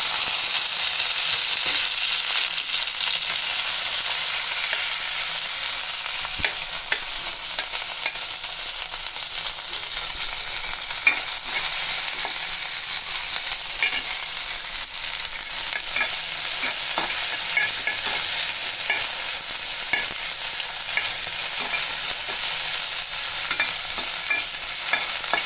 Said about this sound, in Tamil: எண்ணெய் சூடானதும் கட் பண்ணி வச்சுருக்க வெண்டைக்காவை இதில் வதக்கி எடுத்துக்கலாம்.